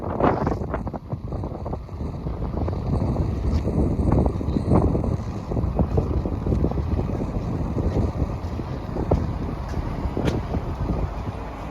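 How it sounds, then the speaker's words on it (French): Strong wind buffets the microphone in a continuous, loud roar with gusty low rumbling throughout, no voices heard. "Ouh, il y a du vent."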